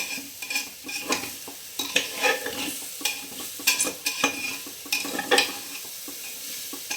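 A spoon scrapes and stirs basanti pilaf rice with raisins and cashews in a pot, in quick repeated strokes over a soft sizzle, close and clear with no talking.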